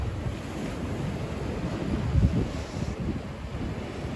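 Storm surf breaks against the Yalta embankment at night, a steady low roar with one heavier wave surging near the middle, wind buffeting the microphone throughout and no voices.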